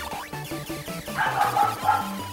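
A household dog barks a few times indoors, moderately close, over beeping chiptune music from a retro console game.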